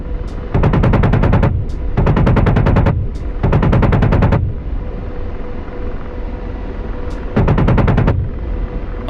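An AH-64D Apache's 30mm chain gun in the DCS flight game fires four rapid, loud bursts of heavy rounds, each a tight string of thudding shots over a constant helicopter rotor drone.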